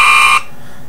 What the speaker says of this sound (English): that is the sound of the fire alarm in my middle school.